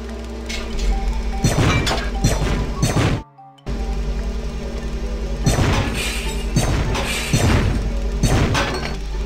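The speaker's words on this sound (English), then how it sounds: "Try smashing them with your scrap launcher." Plates shatter under a scrap launcher in the Robots video game, a run of loud crashing smashes in quick bursts, broken by a short silent gap and then more breaking impacts.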